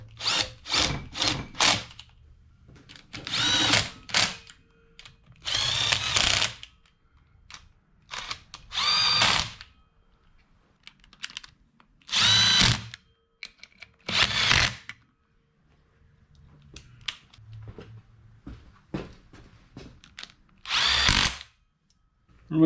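A power driver runs screws into a Honda CB350 engine during assembly: a series of short, sharp whirring bursts, each lasting about a second, separated by quiet pauses and faint handling noise.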